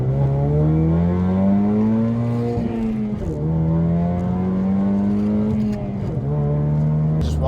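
A car engine drives steadily, its pitch rising as it revs through gears, with two brief dips between shifts; loud and close, no talking.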